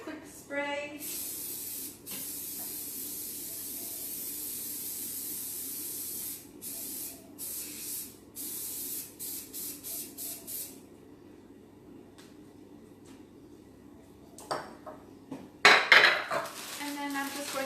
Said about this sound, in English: So I just take it over the sink, give it a quick spray.